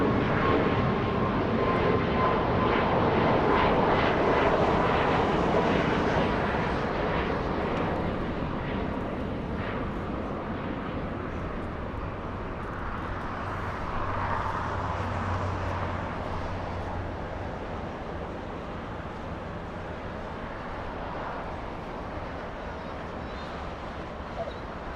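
A plane touching down at LAX, a broad roaring engine rumble that is loud at first and slowly fades over nearly half a minute, with a dog barking faintly in the background.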